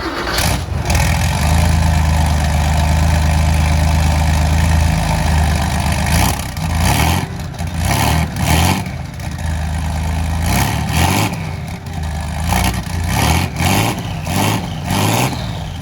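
A Porsche 911 Turbo fitted with a Fabspeed intercooler fires up close by and settles into a deep, loud idle, broken by several blips and surges of throttle over a continuous rumble.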